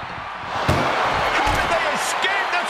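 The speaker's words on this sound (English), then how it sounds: "Trying to at least slam one door shut." A slam rings out in a wrestling video game, the ambulance door banged shut with a sharp thud amid loud crowd noise and an energetic commentator talking over it.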